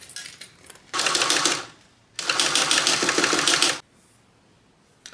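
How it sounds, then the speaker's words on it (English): A sewing machine stitches the side seam of a Bella Bucket Bag at a 3/8-inch seam allowance, running in two steady, close buzzing bursts separated by a short pause. "now we're going to sew the entire side together at 3/8 of an inch seam"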